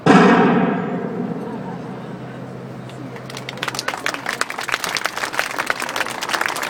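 A cannon fired by the USS Constitution's master gun team booms loudly at the start, with a rumbling decay, then a crowd breaks into sustained applause.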